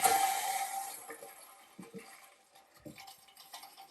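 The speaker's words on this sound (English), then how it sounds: "you'll hear the water kick back on" A toilet tank refilling once the water supply is turned back on after a handheld bidet sprayer is installed: a loud rushing hiss at first that fades into quieter trickling and a few faint knocks.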